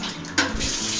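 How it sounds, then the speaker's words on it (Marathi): Hot water is poured into a pot of mutton curry, a short close splash and gush of liquid with a brief clatter. "याच्यात पण आपल्याला गरम पाणीच टाकायचं आहे"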